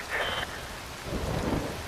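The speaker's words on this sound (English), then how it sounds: "Wind blows. Rain falls." Heavy rain and rolling thunder from the video game Metal Gear Rising: Revengeance, a dense continuous downpour with a low rumbling swell, loud and without any voices.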